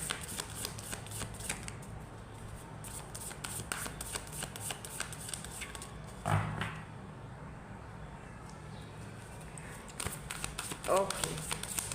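Tarot cards are shuffled and drawn by hand, soft riffling and flicking taps close by, with a few sharper card slaps, while someone talks quietly throughout.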